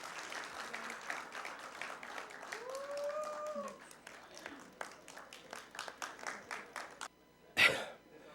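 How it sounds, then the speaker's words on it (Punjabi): Scattered, uneven hand clapping rises and fades from an audience at an award ceremony during an international Punjabi conference in Lahore, with a person speaking briefly over it and a sharp knock near the end. "ਬਹੁਤ ਜ਼ਿਆਦਾ ਤਾਲੀ।"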